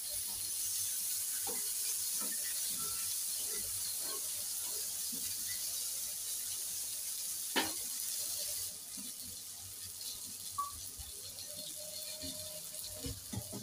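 Kupa fish frying in oil on a flat tawa gives a steady, fairly close sizzle throughout, with a few small clicks and taps and a brief sharper knock partway through.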